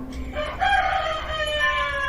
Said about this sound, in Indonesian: mendengar suara kokok ayam sebelum subuh